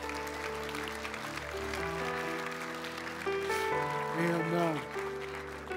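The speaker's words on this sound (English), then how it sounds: "Go ahead and just give God a great big hand clap of praise." Church congregation claps hands in praise at the close of a service, a steady wash of applause blended with sustained organ or keyboard chords and a brief spoken word.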